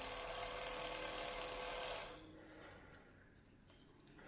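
An ONEVAN tile vibrator machine buzzes steadily and close for about two seconds, then cuts off, leaving faint room noise with a few small clicks.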